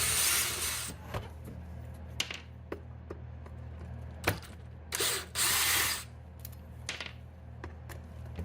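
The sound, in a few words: power driver removing Torx 25 screws from Husqvarna 125BVX leaf blower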